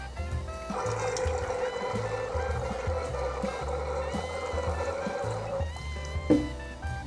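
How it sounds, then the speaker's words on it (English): Wine is poured through an aerator funnel set over a glass, a continuous gurgling, bubbling flow lasting several seconds before stopping, with a small clink near the end. "as you pour it into the glass, I don't know if you could hear that on video, but you can hear it moving through this funnel"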